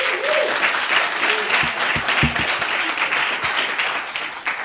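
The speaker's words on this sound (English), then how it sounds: "So can we clap them up for that?" A school board meeting audience claps warmly for a few seconds, a steady burst of applause from the room with a few faint voices underneath.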